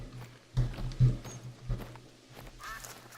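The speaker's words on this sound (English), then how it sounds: "it was ducks there and they're running away. Didn't even hear them land. Just lots of quacking." Ducks quack in theHunter: Call of the Wild as birds flush away, several short, loud low bursts spaced across the opening second or so, then fainter flapping and rustle over a steady low hum.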